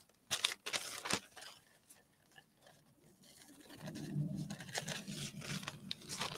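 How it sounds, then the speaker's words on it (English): Scissors snip and crinkle through paper, cutting pieces for an art journal page, with a few sharp close cuts followed by softer rustling handling. "taking a pair of scissors"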